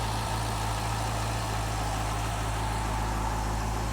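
A Cadillac CTS-V engine idles just after a starter replacement, a steady low rumble and hum that stays constant throughout with no voices.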